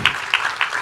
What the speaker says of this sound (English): You can clap more freely.